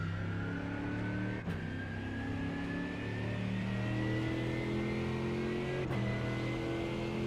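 GT3 race car in iRacing at Spa-Francorchamps pulling hard up through the gears, a steady loud engine note climbing in pitch with two brief dips at the upshifts, no talk over it.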